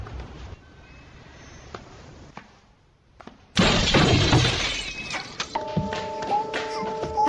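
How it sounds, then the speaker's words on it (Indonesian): Bedroom window glass shatters loudly after an old car engine is thrown through it, a sudden crash and spray of breaking glass that follows a quiet stretch and keeps rattling, with a faint tone pattern continuing beneath. "kaca jendela kamar mereka pun pecah setelah ada orang asing melemparkan sebuah mesin mobil bekas"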